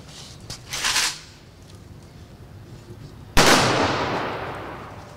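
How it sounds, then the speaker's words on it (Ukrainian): A ceremonial salute volley is fired in honour of soldiers who died defending Ukraine. A fainter burst comes first, then one loud, sharp crack whose echo slowly fades across an open outdoor setting. "в честь кожного, хто віддав життя, захищаючи Україну та її територіальну цілісність, пролунав салют."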